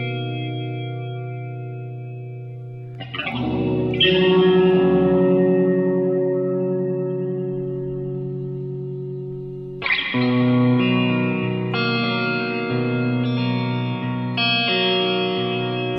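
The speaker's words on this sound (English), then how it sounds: "Finally capping it off with the Chasebliss Lossy. I love the reverb and the filter options on this pedal" Electric guitar chords played through a Chase Bliss Lossy pedal, swelling into lush washed reverb with filtered, degraded tone; two long sustained strums, the second followed by several shorter re-attacks, alone without talk.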